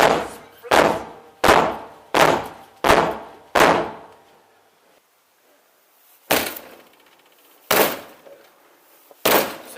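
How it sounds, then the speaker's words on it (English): Police officers kicking a door open, with a rapid series of five heavy thudding impacts followed by a pause, then three more spaced loud blows, close and sharp. "We're gonna kick your door open."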